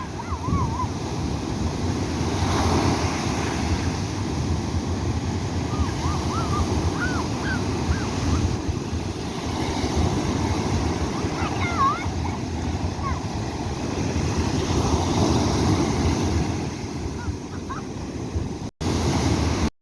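Ocean waves washing onto a beach at a South African holiday resort in the evening, a continuous loud surf roar with wind buffeting the microphone and faint bird calls and distant voices mixed in.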